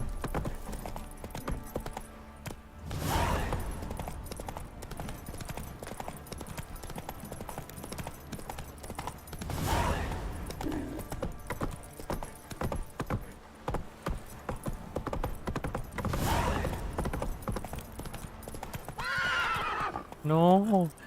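Roach the horse in The Witcher 3 whinnies several times over steady clip-clopping hooves, with a final neigh near the end, all under game dialogue and background music.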